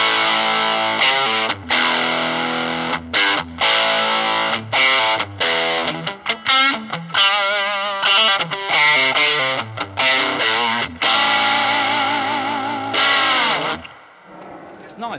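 Electric guitar with a touch of humbucker drive runs through a cranked Fender '68 Vibrolux amp with reverb, playing loud distorted chords and riffs continuously before ringing out at the end.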